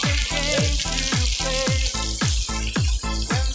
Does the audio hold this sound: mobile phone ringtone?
no